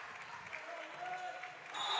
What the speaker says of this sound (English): A standing ovation here for the Eastern College Nazarene Lions.